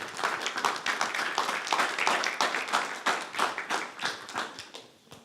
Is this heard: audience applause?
yes